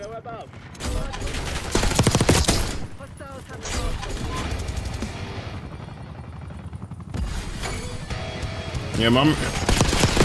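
Gunfire in the video game Black Ops 6 rattles in loud bursts and sustained volleys, with mechanical clatter between them, while a player talks over the action.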